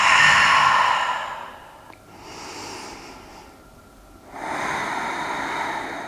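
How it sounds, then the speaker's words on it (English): A slow, deep breath taken during a lying-down stretch, knees hugged to the chest: a long airy inhale, a soft pause, then another breathy swell, close and quiet with no talking. "Take a deep breath."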